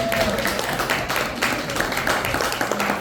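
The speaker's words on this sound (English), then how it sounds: "Round of applause for our actors." Audience applause for actors after a table read at a film festival, a steady dense wash of clapping held at an even level throughout, fairly close and continuous.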